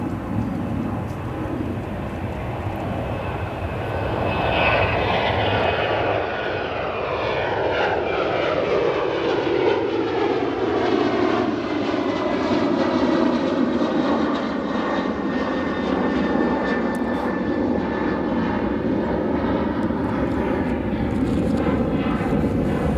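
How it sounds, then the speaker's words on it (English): American Airlines airliner departing O'Hare Airport, a loud jet engine roar passing overhead with a sweeping pitch shift as it climbs away, heard alone. "Go to another departure, an American Airlines."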